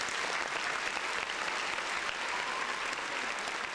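Steady, dense audience applause filling the whole stretch, loud and continuous without talk.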